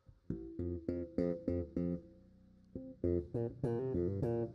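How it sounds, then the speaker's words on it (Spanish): Muffled, dull slapped bass with the strings set too high, notes plucked and slapped in a steady run, each with a dead thud and little sparkle, a short pause midway before more notes. "Así suenan los bajos cuando las cuerdas están muy levantadas y yo quiero hacer un slap"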